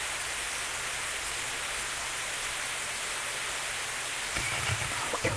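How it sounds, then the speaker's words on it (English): Rain pours steadily as a dense, even hiss that stays loud throughout, with a few faint low thumps near the end and no voices. "the sound of rain and thunder seemed to become distant, empty"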